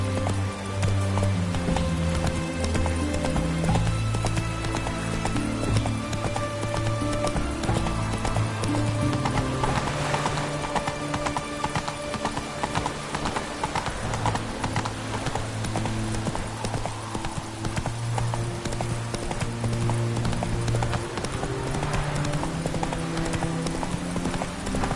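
Roach, a horse in a video game, gallops with a fast, steady clip-clop of hooves that runs without a break for the whole stretch, over a sustained tonal background.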